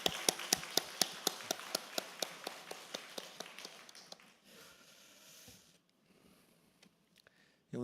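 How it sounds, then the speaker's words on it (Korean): Rhythmic unison clapping from a church congregation at a Sunday afternoon worship service, about twenty crisp, evenly spaced claps that slow and thin out before a quiet stretch of room noise. "우리 환영하고 축복하는 마음으로 다시 한번 박수하겠습니다."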